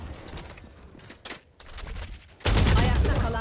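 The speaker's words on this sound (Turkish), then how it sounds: "Gövdeye sıktığım her mermi aşağı gidiyor bak bak." Rapid gunfire in the Valorant tactical shooter game, sharp shot bursts scattered through the first part and then a loud, dense volley of fire taking over at the end.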